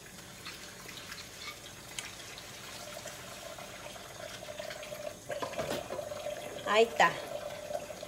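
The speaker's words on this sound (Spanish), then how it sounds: "ahorita le voy a echar más agua para que se vayan enjuagando" Water is poured over dishes to rinse them, a faint trickling splash that grows into a brief louder pour near the end, with a quiet voice speaking over part of it.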